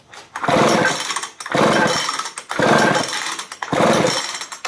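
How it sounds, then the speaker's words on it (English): Four rapid rope pulls on a Poulan 306A chainsaw starter during a spark test with the spark plug grounded, each a loud rasping whir about a second long with brief pauses between, the engine never catching. "pull the rope at the chainsaw, and I'll show you what happens."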